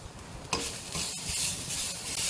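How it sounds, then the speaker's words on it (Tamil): Red chillies and grated coconut dry-roast in a pan with no oil, giving a close, even scratchy sizzle and stirring rasp throughout, no voices. "அதுலேயே தேங்காயும் சேர்த்துக்கலாம், தேங்காய் பூவும். எண்ணெயெல்லாம் சேர்க்காம அதை ரோஸ்ட் பண்ணணும்."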